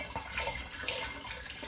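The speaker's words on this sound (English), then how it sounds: "Pour my apple juice into a demijohn" Apple juice pours through a funnel into a glass demijohn, a short, close, gurgling splash of liquid that holds steady throughout.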